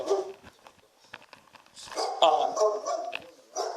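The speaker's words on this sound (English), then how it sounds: "where the dog's not barking super loud" A dog barks repeatedly in short bursts, fairly close, with people talking over and between the barks in a busy room.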